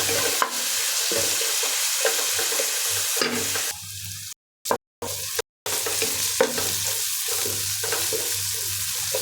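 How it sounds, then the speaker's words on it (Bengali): Onion fries in a pan with a continuous close sizzle as a spoon stirs and scrapes through it, broken by a couple of short silent gaps before the frying resumes. "পেঁয়াজটা সুন্দর ভাজা হয়ে গেছে"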